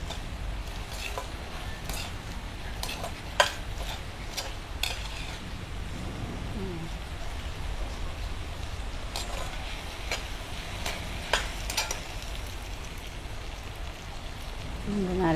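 Garlic sizzles in a pan with softened tomatoes for a fish curry, a steady dense crackle with occasional sharper pops throughout.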